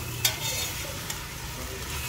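Batchoy ingredients being stirred in a pan while they fry, a steady soft sizzle with a couple of sharp utensil scrapes against the pan, close and with no talk.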